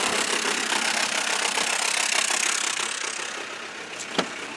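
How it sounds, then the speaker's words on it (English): Citroen Berlingo HDi diesel engine running rough and misfiring, a loud, steady close-up rumble with an uneven, knocking beat throughout and a brief sharp click near the end. "It just ain't firing properly, and it's smoking with loads of white smoke."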